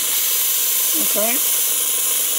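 A model steam tram engine running on compressed air gives a steady, loud hiss that lasts throughout, with a short voiced sound briefly rising over it partway through.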